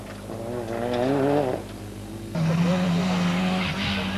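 An Alfa Romeo 75 Turbo rally car runs a gravel stage at the 1992 Rally Saturnus on Krim. The engine revs climb loudly, drop briefly at a gear change, then pull hard again at close range.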